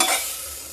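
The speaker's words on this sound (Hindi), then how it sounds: "अब प्याज भून रहा मेरा" Onions frying in a pan give off a brief, bright hiss of sizzling oil that fades slightly over under a second.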